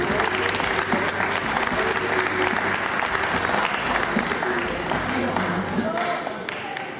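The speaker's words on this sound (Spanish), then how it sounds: "vamos a recibir un aplauso fuerte, por favor" An audience at a music appreciation lecture bursts into sustained, dense applause from a crowd close by, holding steady for several seconds before tapering off at the end.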